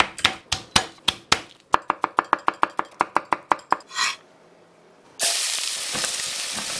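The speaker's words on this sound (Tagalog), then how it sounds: "Sa kaserola, magigisa tayo ng bawang." A knife chops garlic on a board in quick, regular strokes, then garlic hits hot oil in a cooking pot and a loud, steady sizzle starts up close.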